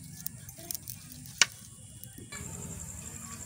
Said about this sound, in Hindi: तो दीदी यहाँ आग को तैयार कर रही है मिट्टी के बर्तन को पकाने के लिए।